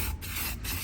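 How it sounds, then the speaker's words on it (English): Spray paint hisses steadily from a can onto a car seat from a 2001 Mirage 1.8, a continuous close, loud broadband spray with two brief dips in the flow and no voices. "spray this down"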